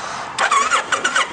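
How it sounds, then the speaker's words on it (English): A carbureted 2004 Kawasaki Vulcan 1500 Classic motorcycle with stock exhaust pipes is cranked over. A brief quiet moment gives way to uneven, close bursts of the engine turning over and catching. "We'll go ahead and crank her up for you."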